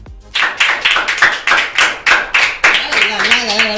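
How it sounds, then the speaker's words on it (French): Studio crew clapping on a live morning show set, a loud, close run of rhythmic claps at a steady beat, with a voice starting to speak near the end. "Comme je les ai vannés 2 fois, les gars ne veulent plus arrêter d'applaudir."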